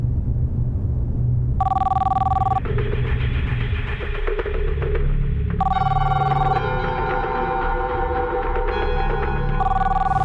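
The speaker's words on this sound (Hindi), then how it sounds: "पता है किसका फोन है?" A telephone rings in repeated electronic bursts, about three trilling rings spaced a few seconds apart, loud and close over a low background hum, with no talking.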